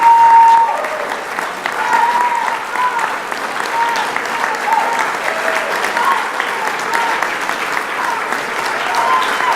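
A dinner audience at an awards gala applauds steadily, a thick, even roar of many hands clapping that holds for several seconds at fairly high volume, with faint voices drifting underneath.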